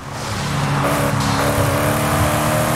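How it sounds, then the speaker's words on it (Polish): Tuned V8 sports car engine in Forza Horizon 5, a steady loud roar with rich low harmonics, holding a sustained rev throughout with no talk over it. "Tu jest jakaś przykokszona V8 w tym aucie."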